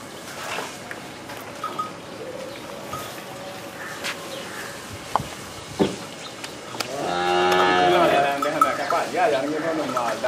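A cow on a farm in Sialkot gives one loud, drawn-out moo near the end, after a stretch of someone talking and quiet rustling.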